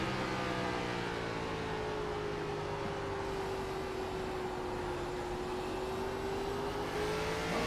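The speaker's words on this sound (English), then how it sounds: "Sounds like he is really easy on the throttle there, so maybe he is trying to save a little bit of fuel." A Gen 4 NASCAR stock car drones steadily on light throttle at a trackside race, its engine note holding an even, slowly shifting pitch for the whole stretch with no sharp revving.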